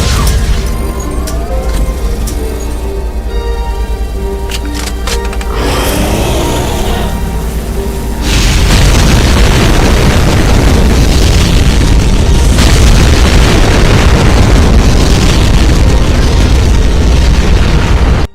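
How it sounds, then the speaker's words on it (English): Cyberdemon in a Doom mod firing twice its ultimate legendary bombs: loud charged game tones give way to a sustained, roaring wall of explosions filling the back half, dense and continuous with no speech. "Lastly, it charges up and fires twice the ultimate legendary bombs."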